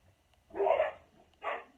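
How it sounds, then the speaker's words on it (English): Dogs bark twice indoors at a moderate distance, two short separate barks with a pause between them, in a quiet room. "see what the dogs are barking at"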